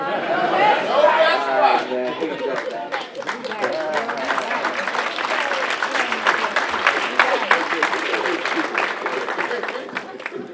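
Applause and cheering from a community audience at a Ward 7 State of the Ward event honoring a minister, dense clapping with crowd chatter and voices mixed throughout, steady and fairly loud.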